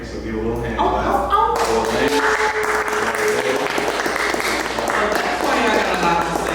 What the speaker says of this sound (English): give a little hand clap